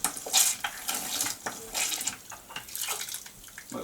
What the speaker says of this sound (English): it's shooting a stream of the cleaning solution up to the top